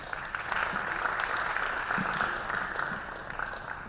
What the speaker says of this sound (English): A big round of applause once again for Praveen